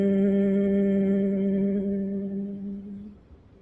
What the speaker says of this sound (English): on the exhale, you're just going to hum Om